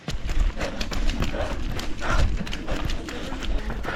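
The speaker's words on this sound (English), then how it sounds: "Look at that, sharing the path with some horses." Horses walking along a shared path, their hooves giving a steady, moderately close clip-clop alongside footsteps and the faint sound of a person talking.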